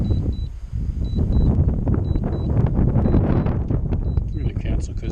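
Strong wind gusting across an apple orchard, a steady roaring buffet against the microphone with a voice talking over it and a faint repeating beep.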